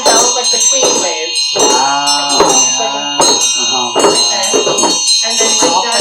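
A ritual bell for Chöd practice rings steadily throughout, its sustained high shimmer running beneath a person talking continuously up close.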